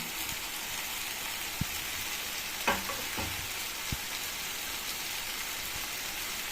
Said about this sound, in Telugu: మనం పచ్చి వాసన పోయే వరకు వేగించుకోవాలి.